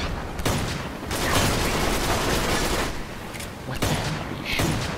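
Heavy gunfire in Uncharted 3: Drake's Deception, a dense, continuous wash of shots and blasts swelling and easing over several seconds, loud and chaotic with no talking.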